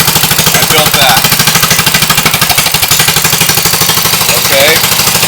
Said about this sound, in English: I thought I'd let you hear my exhaust.